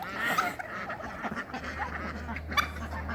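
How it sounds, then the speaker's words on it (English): Ducks escaping their pen on a homestead quack and honk in short, overlapping calls at close range, with a steady low hum underneath. "ducks are escaping."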